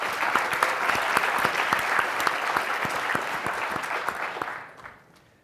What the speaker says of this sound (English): How about a round of applause for Brian Solis and Mike Edelhart for throwing such an amazing conference?